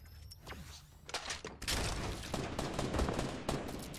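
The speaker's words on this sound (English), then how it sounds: "I'm getting shot from every angle" Dense gunfire crackles through a Fortnite Battle Royale squad fight, rapid overlapping shots and bursts coming from several directions, loud and continuous for several seconds with no voices over it.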